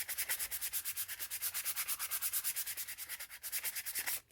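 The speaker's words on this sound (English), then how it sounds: "Let's just rough up this last smooth side so that it looks like this." By hand, with no electric sander, a wooden surface gets roughed up to look distressed: steady, fast back-and-forth scraping strokes, close and fairly loud, about ten per second, with no talking.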